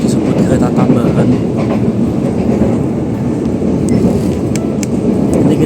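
An Indonesian additional passenger train runs on rails, its loud, steady rumble and faint clickety-clack heard from inside the carriage throughout, with no talk.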